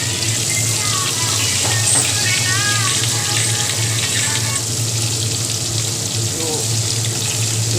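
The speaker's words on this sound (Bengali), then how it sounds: "এইভাবে মাছগুলোকে ভাজা করে নিচ্ছি।" Large pieces of katla fish fry in oil, giving a constant close, loud hiss and crackle with no letup, while a voice briefly speaks over it.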